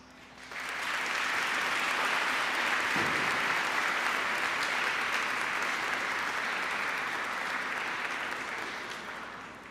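Graduates at a high school graduation ceremony burst into applause, a broad, steady wash of clapping that swells quickly and holds for several seconds before easing slightly.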